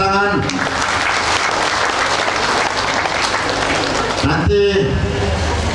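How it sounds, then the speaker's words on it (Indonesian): Loud, sustained applause from a large crowd at a Muhammadiyah anniversary gathering in Sidrap, Indonesia fills the space, steady throughout, with a brief voice at the start and end. "Ibu Nur Kanaah, kita beri tepuk tangan."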